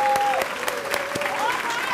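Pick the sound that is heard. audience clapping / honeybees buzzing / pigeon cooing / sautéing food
audience clapping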